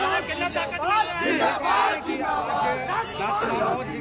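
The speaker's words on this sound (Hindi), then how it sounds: "देख सकते हैं आप लोग किस तरह से रांची बिरसा मुंडा एयरपोर्ट में भीड़ लगी हुई है" A crowd of supporters gathered at Birsa Munda Airport in Ranchi, a dense, close mass of overlapping voices shouting and cheering together, with a loud, steady swell of chanting and babble.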